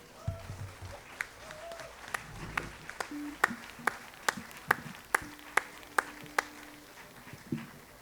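A concert audience at a Sa Die de sa Sardigna celebration claps faintly and sparsely in a regular rhythm, with distant voices murmuring underneath.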